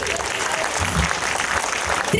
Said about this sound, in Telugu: మనము సేమ్ ఇందాకలా ఒకసారి క్లాప్స్ కొడతాము